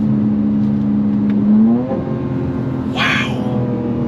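A 2025 BMW M4 Competition, an AWD performance car, accelerating hard, with engine drone rising and then dropping at a quick gear shift, followed by a brief burst of noise, heard from inside the car.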